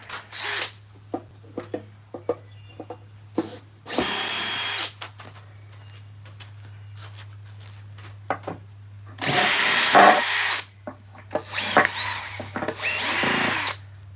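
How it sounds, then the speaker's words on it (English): A flex shaft rotary carver works a wooden Bigfoot relief carving in short, repeated high-pitched grinding bursts, some brief and some lasting about a second, over a steady low motor hum with quiet pauses between. "I think this thing is ready to go in the flex shaft carver"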